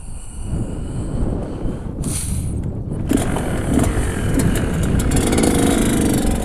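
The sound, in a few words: motorcycle riding after top-end engine rebuild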